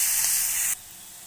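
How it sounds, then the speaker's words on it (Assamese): Lightly salted vegetables fry in a pan, making a loud, steady hissing sizzle up close that cuts off abruptly after under a second, leaving quiet background. "এতিয়া প্ৰথমে মই পাচলিখিনি ভাজি ল'ম।"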